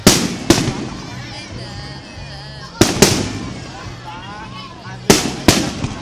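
Fireworks burst at Mall of Asia in loud sharp booms, three main blasts each followed by crackling decay, with crowd voices and chatter between explosions.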